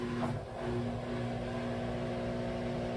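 A Samsung WW22K6800AW/A2 washer's drain pump runs in test mode, giving a steady close-up hum and whir with tonal harmonics, constant throughout with no talking.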